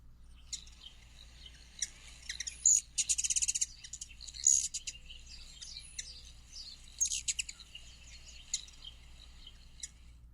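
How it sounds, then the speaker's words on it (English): Black-chinned hummingbird giving sharp, agitated territorial chirps in irregular bursts, some rapid and buzzy clusters, fairly close and clear over a faint low hum. "Yeah, that's that chirpy sound. It doesn't sound happy."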